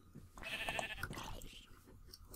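A Minecraft sheep gives a couple of short, nasal bleats, close but fairly quiet over a soft game background.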